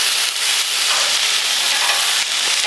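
Beer bratwursts sizzle steadily on a barbecue grill with a dense, bright hiss and scattered small pops, loud and close with no talking.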